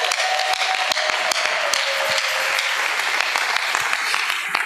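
Applause from a church congregation, dense steady clapping that keeps going without a break, loud and close, with no voices over it.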